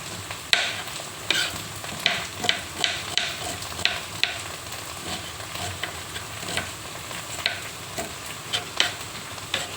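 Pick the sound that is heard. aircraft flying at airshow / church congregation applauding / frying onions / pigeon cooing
frying onions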